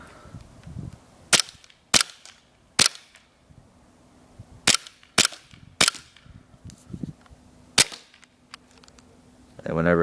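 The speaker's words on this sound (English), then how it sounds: "Me shooting at that styrofoam." Airsoft Desert Eagle pistol firing at a styrofoam target outdoors: seven sharp, snappy cracks spaced irregularly, some in quick pairs, with quiet pauses between and a faint hum underneath.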